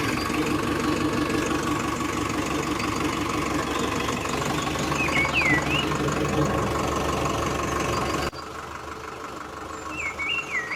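A mini tractor engine idles steadily on a farm during wheat sowing, a continuous loud mechanical drone that drops in level partway through, with faint chirps from birds above it.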